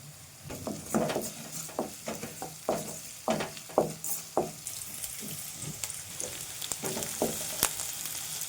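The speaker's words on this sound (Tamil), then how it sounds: "வெங்காயம் நல்லா வதங்கிடுச்சு இப்போ வந்து கருவேப்பிலை வந்து சேர்த்துக்கிறேன்" Curry leaves going into onions sautéing with rock salt for a banana-flower thokku, the oil sizzling steadily beneath a rhythmic series of close spoon scrapes and taps against the pan, with no talk.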